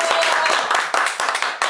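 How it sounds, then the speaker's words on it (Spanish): A crowd greets guest Don Rogelio Cruz Flores, known as Don More, with dense, steady applause at a broadcast special, the clapping loud and continuous with faint voices mixed in. "recibimos con un gran aplauso para Don Rogelio Cruz Flores"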